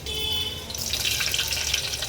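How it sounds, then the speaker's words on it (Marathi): Garlic tempering sizzling in a pan as the first step of a village-style Konkan crab curry, a bright continuous frying hiss that swells after a moment and holds steadily, close and clear with no talking. "लसणीची फोडणी द्यायचं चालू आहे"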